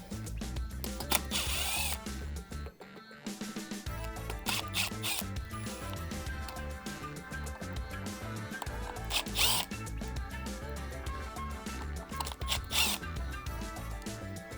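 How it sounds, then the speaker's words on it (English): A drill with a T20 Torx bit backs the arm pad screws out of a Steelcase Think chair, making close, quiet whirring and ratcheting bursts with a short pause between screws and no talk. "you're going to need a T20 Torx bit to remove the 4 screws that are holding the arm pad in place"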